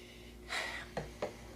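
A few quick, close sniffs of wine through the nose, a longer breathy inhale followed by two short sharp sniffs, with no talking.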